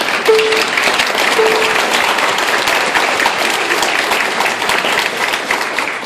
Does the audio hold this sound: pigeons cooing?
no